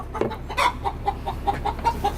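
A chicken clucks nearby in a garage or workshop, a quick run of eight or so sharp, evenly spaced clucks over a faint background hum.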